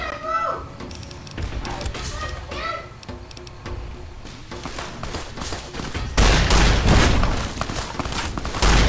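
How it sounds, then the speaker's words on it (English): Gunfire in the Fallout: New Vegas video game, with bursts of shots and booming impacts through the clip, growing louder and denser near the end over layered game sounds. "Just stop shooting me!"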